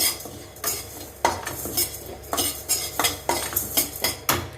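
Spices and asafoetida dry-roasted without oil in a pan, with repeated scraping and clinking of a metal spoon against the pan in an uneven rhythm, close and fairly loud.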